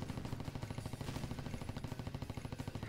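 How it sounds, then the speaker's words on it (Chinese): A rapid-fire machine gun in the mobile shooter Warzone Getaway, loud and continuous with a fast, even rhythm of shots over about three seconds, no talking. "这一关我们换了一个新机枪，而且它的射速是非常快"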